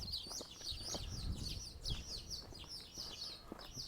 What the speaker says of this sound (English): Lots of birds around here,